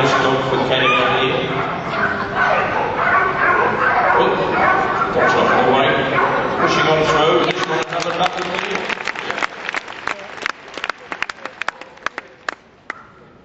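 A working sheepdog barks repeatedly at a Crufts agility competition, with yips amid loud crowd cheering and applause that fades into scattered clapping and sharp barks.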